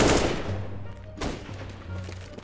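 Gunfire in Counter-Strike: Global Offensive, a burst of sharp shots at the start followed by a single distinct crack and a softer shot, moderately loud with game ambience and no talk over it.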